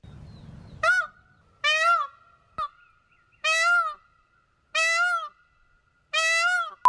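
Peacock calls used as a music sample: five loud, nasal, honking cries, each lasting about half a second, spaced roughly a second apart with near silence between them, heard up close.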